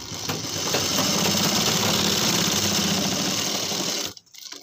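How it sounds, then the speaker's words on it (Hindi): An electric sewing machine stitches a pocket onto a pajama, a loud, steady, fast rattling hum running continuously for about four seconds before stopping abruptly, with no talk over it. "यहाँ से हम सिलाई लगाएंगे इसको इस कट से इस कट तक"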